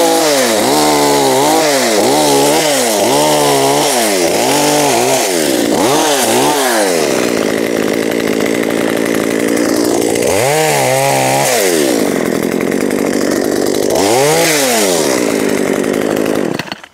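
A GT branch shredder chews through branches up to about 12 cm thick. Its loud motor bogs down in repeated dips as each piece feeds in, then recovers to a steady roar, running continuously with no talk.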